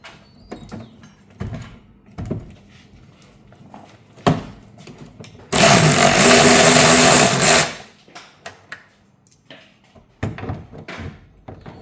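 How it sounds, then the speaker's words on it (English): A power tool removing bolts from a Volkswagen R36 engine, one loud continuous whirring burst of about two seconds, close by, amid scattered clanks and knocks of workshop handling, with no speech. "We are removing 3 bolts on the back of and the tool is catching."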